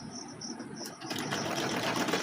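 A sewing machine stitches folded-over fabric on a princess-cut blouse, with a quiet, steady mechanical whir that grows slightly busier partway through.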